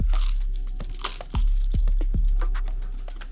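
Close, crisp crunches of a seaweed snack being bitten and chewed, several sharp brittle cracks over a few seconds with light crinkling in between, intimate and ASMR-style with no talking.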